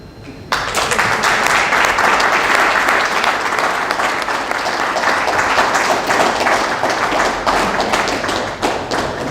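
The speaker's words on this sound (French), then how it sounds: "Je pense que les applaudissements sont très éloquents" Sustained applause from an audience at a book dedication event, dense clapping starting abruptly and holding steady and loud for the full length without any talking.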